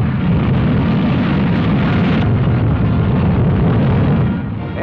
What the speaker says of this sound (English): the huge missile takes off